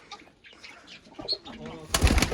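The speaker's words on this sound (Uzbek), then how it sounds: "Mana akalar kaptar mana" Pigeons coo softly a few times, close by, followed by a sudden burst of wing flapping or bustle at the end.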